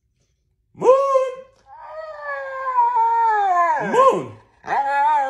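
A dog howls close by in long wavering wails that rise and fall, broken by short pauses, while a man calls out to it once near the start.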